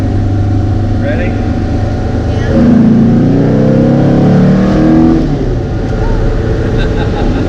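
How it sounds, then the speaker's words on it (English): A 1967 Volkswagen bus, a rusty camper, pulls a third-gear roll-on. Its engine drones steadily, then swells into a rising rev around the middle before easing back to a steady hum, close and fairly loud. "Do a third gear roll on"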